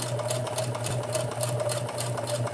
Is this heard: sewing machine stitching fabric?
yes